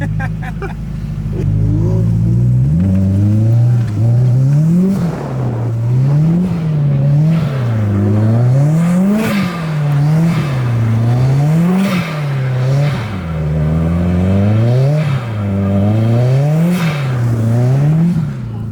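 A Subaru STI's engine wails near the rev limiter while drifting on snow, with rhythmic rising and falling revs repeating in a steady cycle, loud and close throughout.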